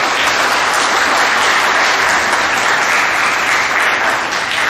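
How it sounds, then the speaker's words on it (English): A crowd at a middle school awards assembly claps loudly and steadily for the 7th grade girls, a dense wash of applause that carries on without a break. "Let's get a round of applause for the 7th grade girls"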